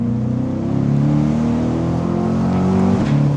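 A 2025 Chevrolet C8 Corvette accelerates hard in Z mode, its engine a loud, close, continuous roar whose pitch climbs steadily before a brief break near the end as it shifts.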